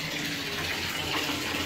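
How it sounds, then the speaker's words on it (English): Hot water gushes from a tap into a filling bathtub in a continuous, close, steady pour with no talk. "So, I'm just doing my bath now while I've still got hot water."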